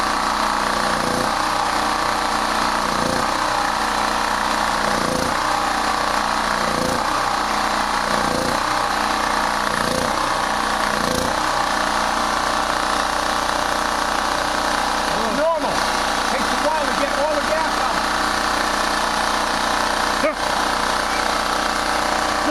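A generator engine sputters and surges as it runs out of gas, its running note pulsing unevenly, then stumbling and fading toward shutdown, loud and close outdoors with people talking over it.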